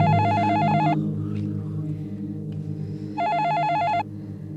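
A telephone rings indoors in a domestic drama scene: two electronic trilling bursts separated by a pause, loud and close over a steady background hum, with no one speaking.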